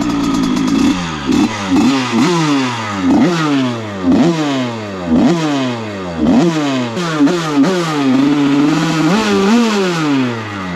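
Motorcycle engine revving hard in a repeated rise-and-fall pattern, each burst of throttle climbing in pitch and then dropping back, loud and close with a rattly mechanical edge and no talk.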